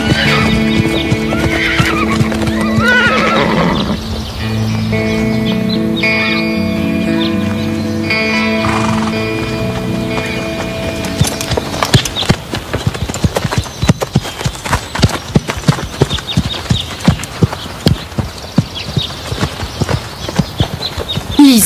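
A horse whinnies loudly at the start over background music, then hooves clip-clop in a steady, close, rhythmic beat for the rest of the clip.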